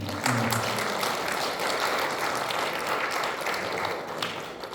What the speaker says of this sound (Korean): 박수 좀 한번 주세요.